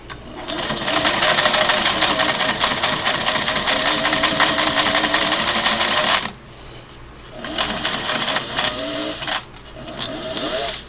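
A Singer Model 404 sewing machine with a standard number 14 needle stitching through double-layer leather; a steady, close run of rapid motor whir and needle clatter for about six seconds, a brief pause, then two shorter bursts.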